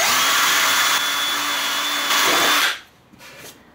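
A power drill whines steadily through a Ski-Doo 1+1 snowmobile seat mounting, loud and close, then stops abruptly near the end, leaving quiet room sound.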